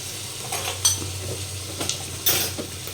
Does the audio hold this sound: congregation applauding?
no